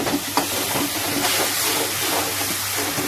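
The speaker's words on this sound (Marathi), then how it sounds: "भाजीत गरम पाणी टाकायचं थंड पाणी टाकायचं नाही" Hot water hits frying masala paste in a pan for a loud, sustained steamy hiss that stays strong and even from start to finish.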